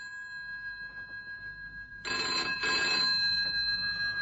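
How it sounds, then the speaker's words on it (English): An old-style telephone bell on a radio drama rings loudly in two clear bursts, each about half a second long, over faint background hum with no talk. "That's why I'm ringing your phone box."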